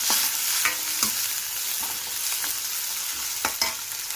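A spoon scrapes and stirs turmeric and ginger garlic paste in a hot pan. Soft sizzling sits under irregular, close scraping strokes, and no one speaks.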